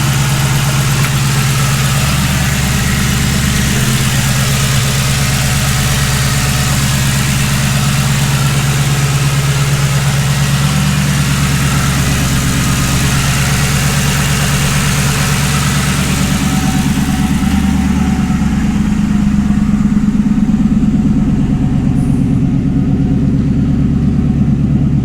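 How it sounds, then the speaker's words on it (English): A 2011 Ford Crown Victoria engine idles steadily close by, its low, even exhaust rumble running unbroken throughout. "Exhaust note is nice and clean again."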